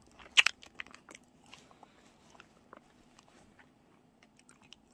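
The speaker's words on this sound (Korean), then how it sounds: "이가 아픈데 먹어도 맛있다. 역시 초콜릿이다." Someone bites into chocolate close up, giving one sharp crunch followed by softer, scattered chewing and crackling sounds in a quiet room.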